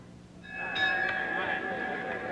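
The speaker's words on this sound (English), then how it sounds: "The bell for round 6 action." A boxing round bell rings out at an outdoor bout at Naval Air Station Pensacola, Florida, a bright sustained metallic tone with long ringing overtones that starts partway in and hangs over crowd noise and murmured voices.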